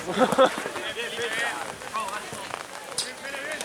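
Steady rain pattering on a surface throughout a football match, with people talking over it.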